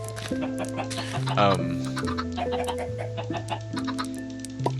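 Chickens in a video game cluck in quick, repeated bursts over a looping game soundtrack with sustained tones, staying close and fairly loud throughout.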